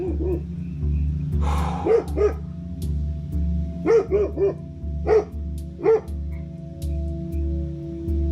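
A dog barks in short bursts of two or three at a forest campsite, moderately close, over a steady low hum in the background.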